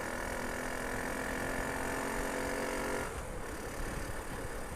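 A Lexmoto Aspire 50cc motorcycle engine heard while riding, a steady buzzing drone with a whining tone that drops away after about three seconds, leaving rougher broadband engine and road noise.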